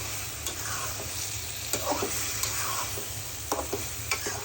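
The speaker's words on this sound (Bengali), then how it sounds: "একটু নেড়ে দিলাম।" Okra and prawns frying in a pan while being stirred, a steady close sizzle under repeated scraping stir strokes, heard alone without talk.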